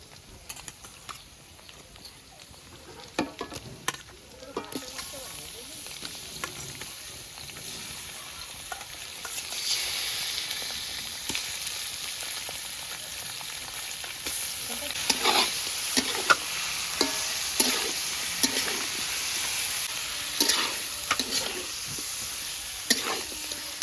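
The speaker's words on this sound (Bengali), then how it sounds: "এবার মাংসটা দিয়ে দিচ্ছি।" Duck meat fries in a pot while being stirred, a continuous hiss and crackle with frequent scraping and tapping strokes that grow busier and louder, with no voices.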